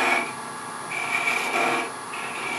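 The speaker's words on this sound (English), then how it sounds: "I'm just going to use a skew to make a little V cut there" A skew chisel cuts a small V groove into spinning wood on a lathe, making three raspy scraping passes with a whistling edge, separated by short quieter gaps.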